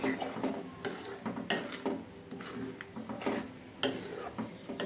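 A spoon scrapes through thickening homemade strawberry jam in a pan, giving repeated rasping, rubbing strokes in a steady rhythm, close and fairly loud, with no talk.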